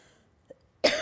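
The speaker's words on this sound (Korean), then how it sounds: "너무 감격스러워서 제가 기침이 나오는 것 같습니다." A woman coughs during a church seminar talk, with a faint throat noise followed by one loud, harsh cough near the end, close to the microphone.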